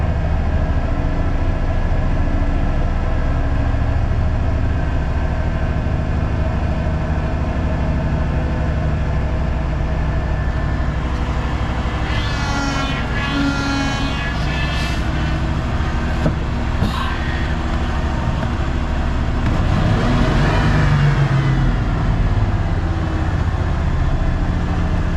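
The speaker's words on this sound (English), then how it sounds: "The engine's revved up." A Ford OBS truck engine with a lean condition and stumbling throttle response runs steadily at idle, a loud, close, constant drone with a couple of brief rises in pitch as it revs.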